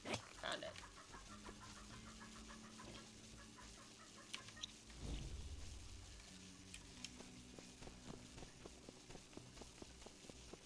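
A chicken clucking nearby, agitated and irregular, heard over faint background sounds and some movement, with no one speaking.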